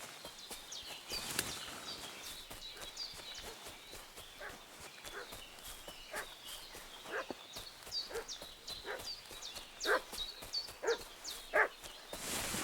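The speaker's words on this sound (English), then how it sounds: "What's that dog making such a fuss about?" Dog barking in the medieval countryside of the video game Kingdom Come: Deliverance 2, a run of sharp, repeated barks at moderate distance over a low outdoor ambience, growing louder and more frequent toward the end.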